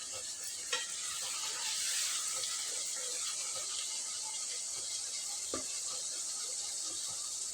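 Ridge gourd fries in oil with a soft, even sizzle and occasional light scrapes and clicks from stirring, quiet and close throughout.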